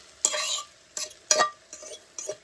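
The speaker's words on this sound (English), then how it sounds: "it should be sizzling when it goes in because this grease should be nice and hot now" Hash brown potatoes hit hot grease in a camp skillet, crackling and sizzling in several close, loud bursts as they are spread and stirred.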